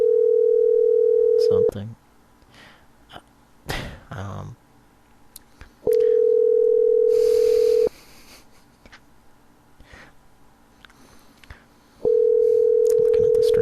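Steady telephone dial tone sounds three times, loud and continuous for about two seconds each, separated by quieter gaps with brief speech and clicks, while a call back is placed.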